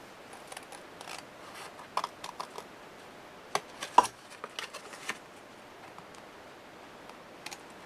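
Scissors cutting patterned scrapbook paper for a photo mini album, a series of sharp, close snips at an irregular pace with quiet gaps between them.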